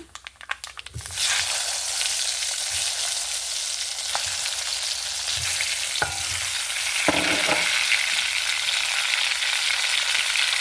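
Wild mango pieces drop into hot tempering oil with mustard seeds, setting off a loud, steady sizzle after a brief clatter, with occasional stirring clicks and scrapes over the continuous frying hiss.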